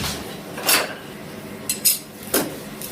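Spoons clink against one another as they are picked out in a kitchen while cooking orange duck, giving three or four short, light metallic taps spaced apart, fairly close and alone.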